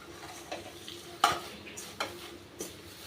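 Drumstick leaves roasting in a pan are stirred for powder, a few soft scraping strokes with light clinks of the spoon against the pan, close and alone.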